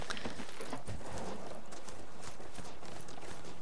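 Hooves clip-clop in a steady, fairly loud gait as a mount is ridden in the video game Horizon Forbidden West, with no talking over them.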